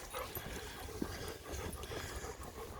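Dogs meeting bigger dogs on a walk give soft whimpers and pants, faint and close against outdoor background noise, with no talking.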